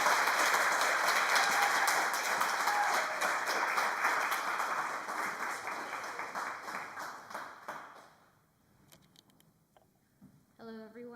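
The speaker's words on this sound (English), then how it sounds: "let's please give a warm round of applause for Mariana" Warm audience applause fills a room at a student thesis showcase, steady at first then tapering off over several seconds into scattered claps and the start of someone speaking.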